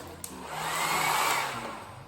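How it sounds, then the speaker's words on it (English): A handheld hair dryer plugged into a wall outlet in an older home whirs steadily after a brief click, its airy motor hum swelling and holding loud and close for about two seconds. "I plug in a hairdryer."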